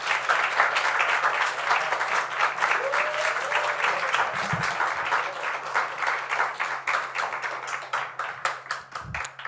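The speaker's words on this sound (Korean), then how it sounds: "우리 큰 박수로 환영합니다." A church congregation gives a warm welcome to a guest lecturer with loud, sustained applause, dense clapping that runs steadily for about nine seconds.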